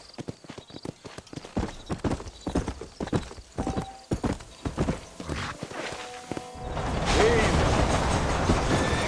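Horse hooves clip-clop steadily at a walk in the Red Dead Redemption game, close and rhythmic, with a whinny and spoken dialogue over them before a broad wash of ambient noise takes over near the end.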